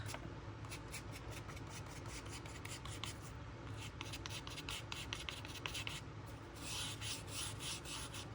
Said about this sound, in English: That's scraping.